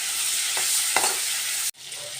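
Paneer fries in ghee in a wok with a loud, steady hiss of sizzling and a couple of brief stirring scrapes, then drops out abruptly before the sizzle resumes more quietly.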